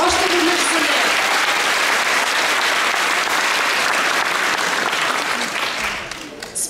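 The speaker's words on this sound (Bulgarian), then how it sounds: "Аплодисменти още веднъж за нея!" Dense, sustained audience applause for a child singer at a school event in Kazanlak, loud and steady for several seconds with crowd noise mixed in, thinning out briefly near the end.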